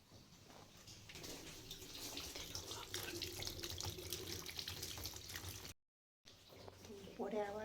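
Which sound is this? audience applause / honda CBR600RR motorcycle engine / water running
water running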